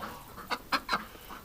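Ducks in a winter duck hospital give a few soft, quick quacking calls, three or four short notes close together, faint and alone.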